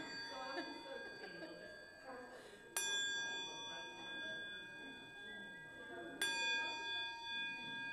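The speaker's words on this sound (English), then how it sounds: "With all kinds of bells today." Bells ringing at the start of a church service, two bright metallic strikes roughly three seconds apart with long, shimmering decays, under murmuring voices and room chatter.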